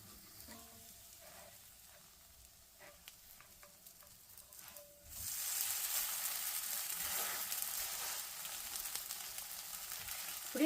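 Dosa batter poured onto a hot pan greased with sesame oil, Jaffna style, bursting into a loud, steady sizzle about halfway through after quieter clinks and scrapes, close and continuous to the end.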